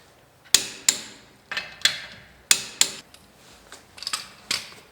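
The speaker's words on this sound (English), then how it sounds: "our torque wrench set to 75 foot-pounds" A torque wrench on a wheel of a 1948 Chevrolet, set to 75 foot-pounds, gives a series of sharp close clicks in paired bursts as the wheel nuts are tightened.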